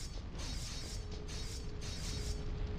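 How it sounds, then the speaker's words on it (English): A Devil May Cry video game elevator rumbles and grinds continuously as it rides, a dense low mechanical drone with creaking, ratcheting texture and no talk. "I'm gonna ride the elevator."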